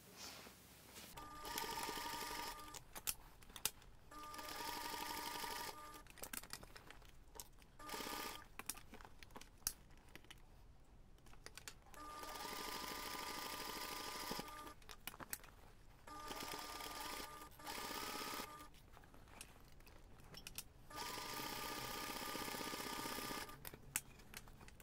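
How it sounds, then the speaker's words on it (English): A sewing machine stitching the seam of a toiletry pouch, running in several bursts of fast rattling stitches separated by short pauses, close and steady, with no talking. "You're going to take this to the machine and sew the seam."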